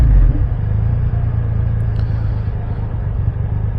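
Triumph Rocket 3 GT power cruiser motorcycle underway, a loud continuous low engine rumble mixed with road and wind noise, steady throughout without clear revving.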